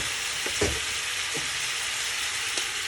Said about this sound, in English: What we're about to do now is add in our turkey wing.